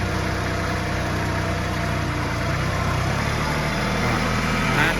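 A Kubota L3408 small tractor's engine runs steadily while pushing soil, a loud, close, continuous rumbling drone with no pauses.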